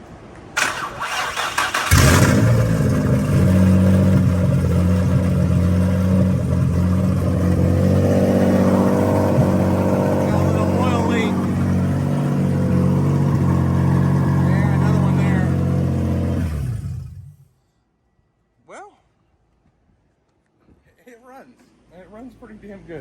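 A rebuilt Nissan VQ engine cranks and fires, then runs with a steady, loud idle for about fifteen seconds before cutting off abruptly, followed by near silence and brief voices.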